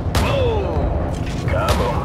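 Explosions and gunfire from the Call of Duty 4: Modern Warfare video game, two heavy booms with rumbling tails about 1.5 seconds apart, loud and close, over dense battle noise.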